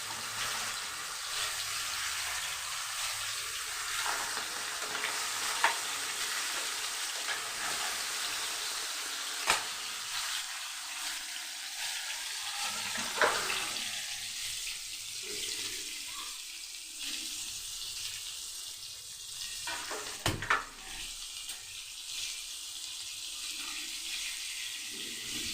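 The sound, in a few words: rohu fish pieces frying in oil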